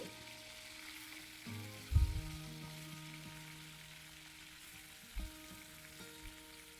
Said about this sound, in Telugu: ఇప్పుడు మనం స్టఫ్ చేసుకున్న ఈ వంకాయలన్నీ ఇందులో వేసుకొని లో ఫ్లేమ్లోనే కుక్ చేసుకోవాలి